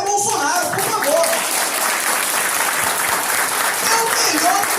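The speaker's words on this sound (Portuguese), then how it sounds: "Palmas para o ministério Bolsonaro, por favor" An audience at a conservative congress applauds the Bolsonaro ministry, with steady, dense clapping from a large crowd, and a few voices and shouts rising over the applause throughout.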